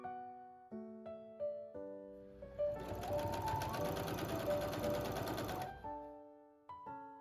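A sewing machine stitches the main fabric and lining of a shortened sleeve together, a dense steady run of rapid needle strokes for about three seconds, framed by soft background music tones before and after.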